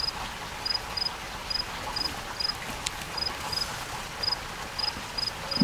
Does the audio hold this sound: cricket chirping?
yes